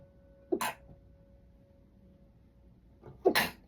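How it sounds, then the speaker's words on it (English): Two sneezes about three seconds apart, the second louder and sharper, with a faint steady hum in between. "Oh, I gotta sneeze."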